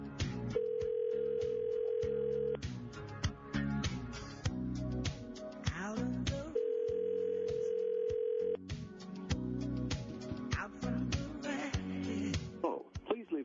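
A voicemail beep tone on a recorded phone call: two long, steady beeps a few seconds apart, with busy clattering sound filling the gaps between and after them.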